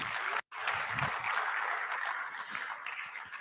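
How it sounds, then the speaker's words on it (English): At a college president's public lecture, an audience gives a round of applause, a soft, steady spread of many hands clapping with one brief dropout near the start, fading slightly toward the end. "give them a round of applause"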